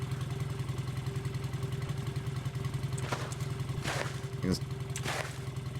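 Motorcycle engine idling steadily in the video game Cataclysm: The Last Generation, a low, even rumble that runs through the whole moment, with a few clatters and knocks over it and a brief word spoken.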